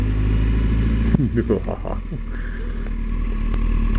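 A Kawasaki Ninja motorcycle's engine hums steadily as it is ridden, with a short burst of revving and gear clatter in the middle and a low rumble throughout.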